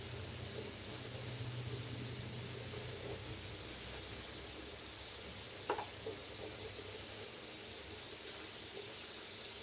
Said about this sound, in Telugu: చక్కగా వాటర్ యాడ్ చేసి మరిగించుకుంటున్నాను టీని